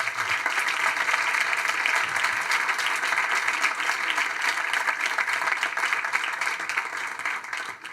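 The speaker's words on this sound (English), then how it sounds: "for sure, a big applause also." Loud, sustained applause from an audience at a tech entrepreneurship anniversary event, dense clapping filling the room without pause from start to finish.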